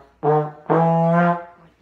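A trombone plays two sustained brass notes at performance tempo from the Fight Song, the second slurred upward and held, clear and close with no talking.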